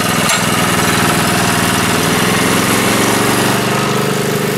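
Small engine on a Niftylift TM34T man lift running steadily at idle after a pull start, a loud, continuous mid-pitched drone with a brief rattle near the beginning.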